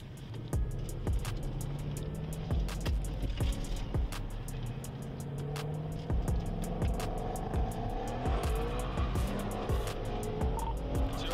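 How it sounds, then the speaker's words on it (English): A twin-turbo Mustang street racing away from police, its engine note rising and falling over steady background noise, with sharp clicking transients scattered throughout and a moderately distant, continuous roar. "Twin turbo Mustang runs from police."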